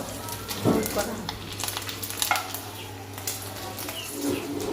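Fish roe fries in a pan with a steady, close sizzle, broken by a few brief thumps and rustles from handling.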